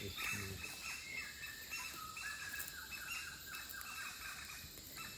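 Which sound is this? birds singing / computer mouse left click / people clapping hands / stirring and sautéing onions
birds singing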